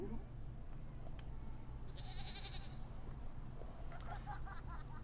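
A goat bleats in the Elder Scrolls Online video game, one drawn-out bleat at moderate distance over a low steady game hum, with a few faint higher calls after it.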